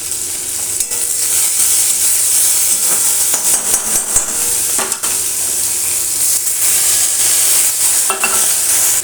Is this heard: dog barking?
no